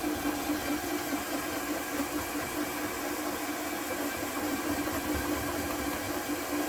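A marble polishing machine runs steadily with 800 grit cups on a vintage German swirl marble, giving a continuous motor hum with a whining tone, moderately loud and unbroken throughout, with no talking.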